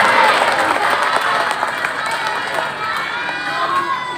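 A crowd at an Indonesian Islamic boarding-school community gathering for a speech cheers and claps in a loud, continuous wash of applause and shouting that holds steady throughout.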